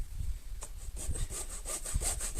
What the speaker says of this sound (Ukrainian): Ну, можна різаком, а можна так ось. Просто пилкою.